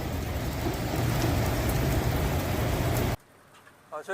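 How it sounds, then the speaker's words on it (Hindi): Steady heavy rain pours down in a dense, loud hiss, then stops abruptly, and a voice briefly speaks in the quieter moment that follows. "ये बारिश हो रही है अगेन।"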